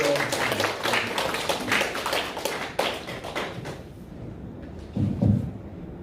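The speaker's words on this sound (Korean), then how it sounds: "여러분 귀하게 힘찬 박수 부탁드립니다." Applause rises in a large auditorium at a memorial academic conference as a presenter is introduced. Dense clapping fills the first few seconds, then thins to a few scattered claps and a bump of low noise.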